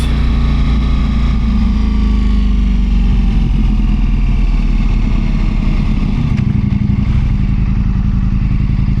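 Motorcycle fitted with an aftermarket seat cushion being ridden, its engine droning steadily and loudly close by with road and wind rumble throughout, no voices.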